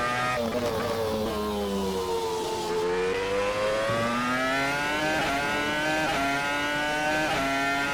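Renault R25 Formula 1 car in a racing sim, its engine screaming as it accelerates and winds out through the gears in fifth, pitch rising steadily and dipping at shifts, loud and continuous with no talk.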